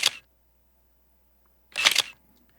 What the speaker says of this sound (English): It just sounds like a regular camera shutter